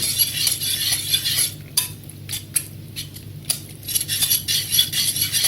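Utensil stirring spinach and bacon tart filling with egg in a bowl, a run of close scraping and clinking strokes with short pauses between them, no talk.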